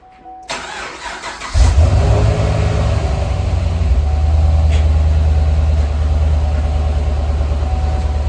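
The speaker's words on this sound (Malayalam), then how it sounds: "അത് കോൾഡ് സ്റ്റാർട്ട് ചെയ്യുന്നു." A Chevrolet Camaro SS muscle car cold starting in Canadian winter cold: a brief cranking whir, then the engine catches with a loud, deep rumble that settles into a steady, throaty idle, close by with no talking.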